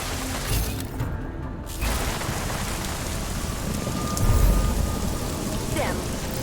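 Steady rain falls in Deus Ex: Mankind Divided, a continuous broadband wash of drops on surfaces with a brief dip in the middle and a swell toward the end, without talk.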